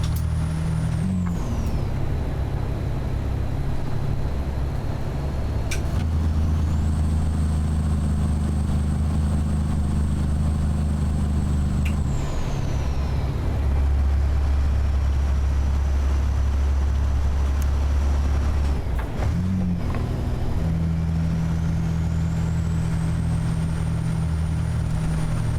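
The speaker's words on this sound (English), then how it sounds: "I wanted one with nice and easy to get along with Jake brake sound." A heavy truck in American Truck Simulator makes a steady, loud, deep engine drone that shifts in pitch as the Jake brake and gears change, with brief air hisses between stretches.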